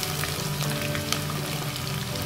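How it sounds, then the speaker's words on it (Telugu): Onion pieces fry with whole spices in a pan for a spicy mutton masala, giving a steady, moderate sizzle with a few soft stirring taps and no one speaking. "ఈ ఉల్లిపాయ ముక్కల్ని వేసుకొని విధంగా మిక్స్ చేసుకుంటూ మంచి రెడ్ కలర్లో వచ్చే వరకు కూడా ఫ్రై చేసుకోవాలి"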